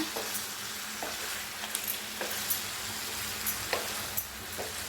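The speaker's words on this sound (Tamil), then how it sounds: "இதில் கரம் மசாலா சேர்த்துட்டு ஒரு 2 நிமிஷம் நல்லா வதக்கிக்கோங்க" Quail pieces are sautéed with garam masala and softened tomato in a pan, producing a soft, steady sizzle punctuated by rhythmic scraping taps of a stirring spoon, fairly quiet and without speech.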